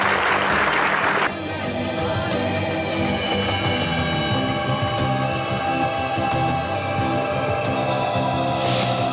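A studio audience on a Hindi TV show claps, with a sharp louder burst at the start that settles into a steady wash of applause mixed with music-like tones, then rises again briefly at the end.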